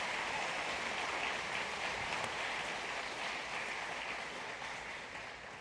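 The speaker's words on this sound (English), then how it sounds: "So I'd like to give him one more round of applause." At an eighth-grade school promotion ceremony, a large audience gives a round of applause, a steady rain-like roar of many hands clapping at moderate volume that gradually tapers off toward the end.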